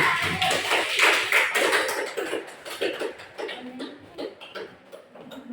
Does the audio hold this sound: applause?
yes